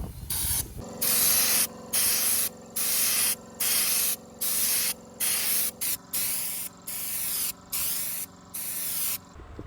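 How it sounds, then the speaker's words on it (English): Compressor-driven spray gun applying Raptor coating to a bus, hissing loudly in repeated bursts of about a second each with short pauses between, close and alone. "it's time to use our compressor and get spraying"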